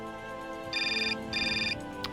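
A telephone rings in the video game Syberia Remastered: two electronic ring bursts, each about half a second long, close and clear over a quiet background tone.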